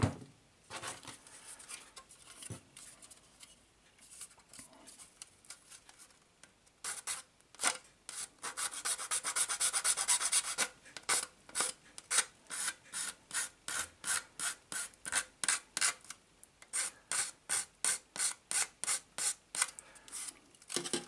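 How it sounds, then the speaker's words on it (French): Hand filing on a plastic Liberty Walk Ferrari 458 model kit body, close and alone: scattered scraping at first, then a dense continuous rasp, then a long run of regular back-and-forth strokes. "Une fois que j'ai fini de tout bien limer ici"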